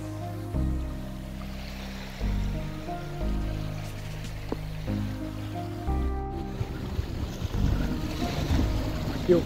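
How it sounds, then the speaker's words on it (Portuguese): Wind buffeting a microphone on a beach at Ilha do Boi, Praia da Salina in São Pedro da Aldeia, with low gusty rumbles rising and falling in bursts over faint surf and water, no clear talking. "Aqui o vento tá batendo."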